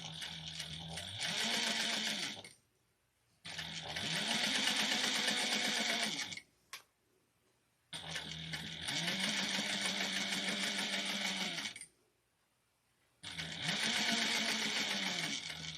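A sewing machine stitches a vintage-style handbag in four separate runs, each a close, rapid mechanical whir with a rising motor pitch, broken by short quiet pauses and one small click.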